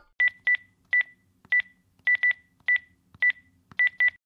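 Touch-tone keys pressed one after another to dial a telephone number, about a dozen short clean beeps in an uneven rhythm, close and clear over a quiet background with no talking.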